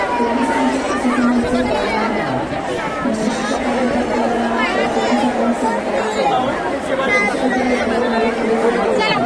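Huge throng at the Pune Ganesh festival, steady loud hubbub of countless overlapping voices pressing close, with no pauses across the whole stretch.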